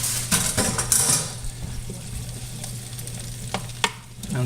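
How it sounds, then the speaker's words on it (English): Garlic parmesan redskin potatoes sizzle steadily in a hot pan, with clinks and scrapes of stirring near the start and a few sharp taps later. "You can hear them sizzling, I'm sure"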